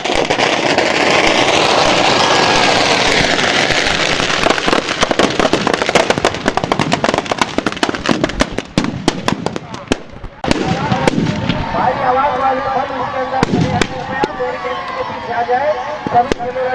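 Rapid crackling bursts of firecrackers exploding close by at a Dussehra festival in Churu, India, a dense popping barrage that thins into scattered bangs amid crowd noise and voices.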